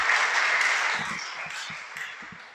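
Applause from a congregation during a Spanish-language Bible talk: a burst of many hands that starts fairly loud and gradually thins and fades, with a few faint low thumps underneath.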